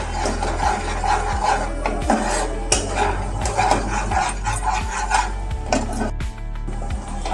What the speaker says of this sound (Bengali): কষিয়ে নিলেই আমার গ্রেভি একদম রেডি হয়ে যাবে।